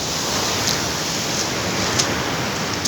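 Strong sea waves surging onto a shore, a dense continuous wash of rushing water and hiss with no pause, loud and close, no talking.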